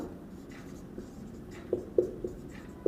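Handwritten notes go down during a history lesson, with soft pen scratches and light taps on paper, close and quiet, under a low steady background hiss.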